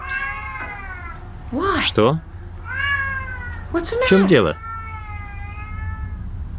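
Siamese cats meowing and yowling close by, several drawn-out wavering cries in a row with sharp higher squeals between them, while a person speaks over part of it.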